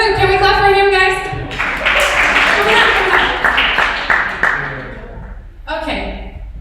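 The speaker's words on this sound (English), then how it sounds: "Can we clap for him, guys?" Audience clapping for a volunteer at a master class, a burst of broadband applause through the middle of the clip between stretches of a person talking.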